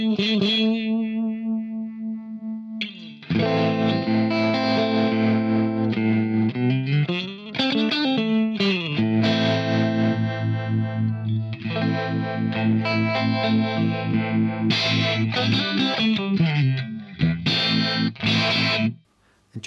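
Guitar run through a Universal Audio Astra Modulation Machine pedal set for a univibe-like modulation, sustained chords and notes swirling with a slow, pulsing throb, loud and alone after a brief quieter opening phrase.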